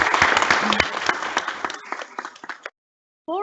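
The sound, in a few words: councillors applauding the new mayor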